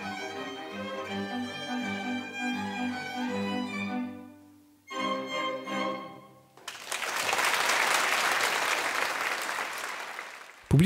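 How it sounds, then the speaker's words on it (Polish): Enthusiastic applause from a concert audience after a string quartet performance at an Independence Day concert breaks out and swells, following the quartet's closing string chords. "żegnała kwartet owacyjnie, bijąc brawa na stojąco"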